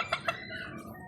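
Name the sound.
white leghorn chicken clucking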